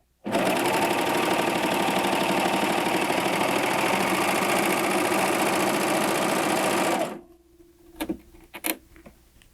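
A Baby Lock Acclaim serger runs a 4-thread overlock on lining fabric, making a loud, steady, rapid mechanical whirr close up for about seven seconds before stopping, followed by a few faint clicks and handling sounds.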